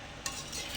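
Masala for Madurai-style chicken salna is stirred and fried in a pan, giving a soft steady sizzle with a scrape of the spoon partway through, close and without voices.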